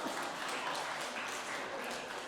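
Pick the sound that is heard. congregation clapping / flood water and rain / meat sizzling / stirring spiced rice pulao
congregation clapping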